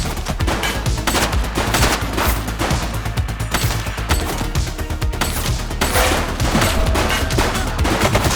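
Heavy, continuous machine-gun fire from a police shootout in the PS5 game The Precinct, loud and relentless with overlapping rapid bursts and no speech.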